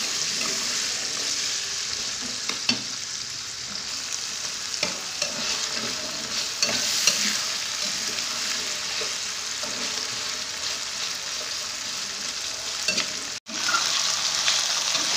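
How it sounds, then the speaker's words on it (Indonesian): Cokak snails and anchovies are stir-fried in a pan with a continuous close sizzle, broken by intermittent scraping strokes of a spatula and a brief dropout near the end. "tumis cokak sama teri"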